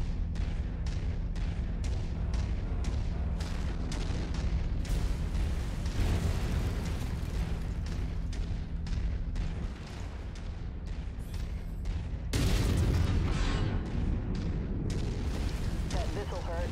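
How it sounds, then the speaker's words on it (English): Missiles slamming into a mech in MechWarrior 5, a long run of booming impacts and rapid thuds over continuous low machine rumble, with a second heavy blast cluster near the end and occasional voice chatter mixed in. "That missile hurt."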